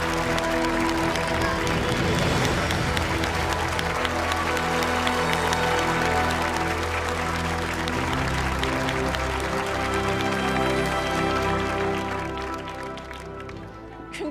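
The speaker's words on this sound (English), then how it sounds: "please let's have a huge round of applause for our remaining 2 finalists" A studio audience at a televised children's quiz competition applauds the two finalists. The clapping is loud, dense and sustained, with tonal sound underneath, and it tapers off near the end.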